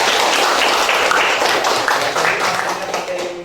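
A classroom of students claps together in quick, close, moderately loud applause that tapers off slightly toward the end.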